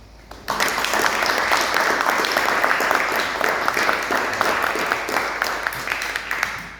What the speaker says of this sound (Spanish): un aplauso grande para todos